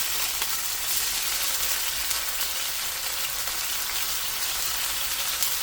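Garlic sizzles hard in a blue carbon steel Yosukata round-bottom wok, a dense, loud, steady crackling hiss that carries unbroken through the whole stretch.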